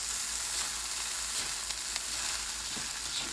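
Fried rice with shrimp and Chinese sausage frying in a pan, a steady bright hiss of sizzling with faint occasional scrapes of stirring.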